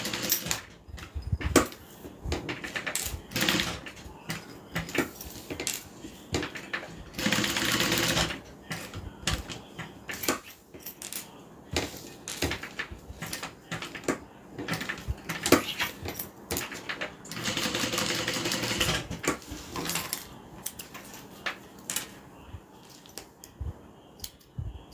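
A sewing machine stitches the side seams of a custom garment in repeated bursts of mechanical whirring, starting and stopping in short runs with brief pauses between, close and fairly loud, with no talking.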